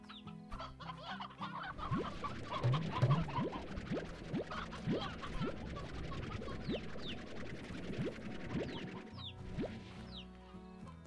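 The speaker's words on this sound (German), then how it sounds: "Ich habe hier einen neuen Hahn" Chickens and roosters clucking in the video game Slime Rancher, a run of short repeated clucks and scratchy fowl calls over steady game ambience, moderately loud and close, with no talk.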